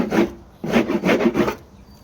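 Close, rasping strokes of sanding down fiberglass filler ridges on a Nissan S14 rear bumper fitted with a BN Sports Blister widebody kit: a short burst, a brief pause, then a longer run of quick back-and-forth rubs fading out.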